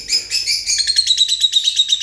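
Lovebirds in a parrot and budgerigar breeding facility in Gaziantep chirp in rapid, bright, repeated tweets, close and loud, forming a steady chattering rhythm with no talking.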